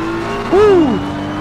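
A race car on the Nürburgring Nordschleife swells briefly to a loud, close engine note with a rising and falling pitch sweep. A steady engine drone runs underneath it.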